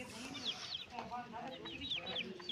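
Chickens and roosters cluck and chirp amid a busy village farmyard background in summer, with scattered bird calls and faint voices mixed in.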